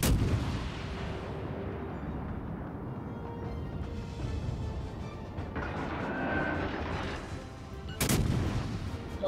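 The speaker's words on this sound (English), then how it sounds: "Finally, I got some bombs going off." Warship guns and bombs fire in World of Warships Legends naval combat, with a constant rumble of heavy booming blasts that swells around the middle and ends in a sharp, loud burst of gunfire near the close.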